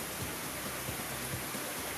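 Heavy rain from a cloudburst that poured 88.4 mm in 35 minutes, a dense, continuous roar of downpour on surfaces with no voices.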